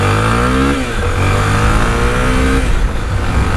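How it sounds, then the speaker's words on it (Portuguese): A Honda XR Tornado 300 motorcycle revs hard as it pulls away, engine pitch climbing in loud, close sweeps and dropping between gear shifts. "já sair acelerando pra nós ver de qual que é. Ó, o giro dela é bem legal"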